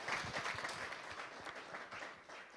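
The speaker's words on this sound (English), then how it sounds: "Let's give him a round of applause." Quiet, distant round of applause from an audience at an entrepreneurship summit, a soft continuous patter of many hands with no voices over it.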